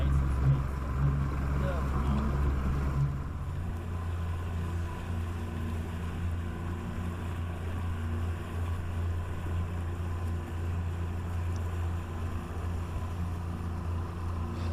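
A boat's engine runs steadily out at sea among iceberg chunks off Newfoundland, a constant low drone that shifts slightly after a few seconds, with someone talking over it.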